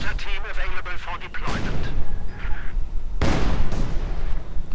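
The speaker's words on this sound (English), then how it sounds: "that's an awful lot of mortars from the Germans" German mortar fire in the Company of Heroes 2 video game, with repeated heavy booming impacts and rumbling blasts amid battle noise and an overlapping voice.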